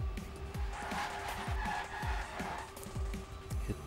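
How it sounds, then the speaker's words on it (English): A race car in a racing video game brakes very late on the United States GP circuit, with repeated short tire squeals and a rhythmic engine note, moderately loud with no talk. "Hit the brakes very late."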